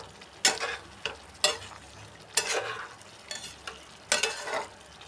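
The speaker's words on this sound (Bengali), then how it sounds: "এবার মাছগুলো আমি একটা একটা করে দিয়ে দেবো অল্প অল্প করে। আর এমনি কষে যাবে মাছ দিয়ে।" Fish pieces for a Bengali lote fish jhuro being fried and stirred in a pan, sharp scraping stir strokes about once a second over a low steady sizzle, close and moderately loud, no talking.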